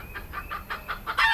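A free-ranging Benny hen with her newly hatched chicks, clucking in a quick run of about six short, close calls that end in a louder burst.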